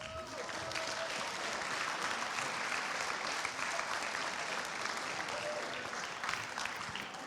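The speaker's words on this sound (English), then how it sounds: "also a big applause to them for making this day happen" Applause for volunteers and judges at an FTC Benelux robotics qualifier, a continuous, even wash of crowd clapping heard from some distance throughout.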